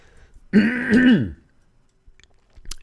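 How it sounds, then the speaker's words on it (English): A single throat clearing from allergies, loud and close, a rough guttural rasp lasting under a second, then near silence with a faint click. "had to clear my throat."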